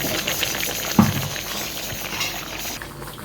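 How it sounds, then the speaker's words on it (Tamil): Fish fries in a pan with a continuous hissing sizzle, close and even throughout, with a single soft bump about a second in and no voices. "இங்கே மீன் வறுக்க போகிறேன்."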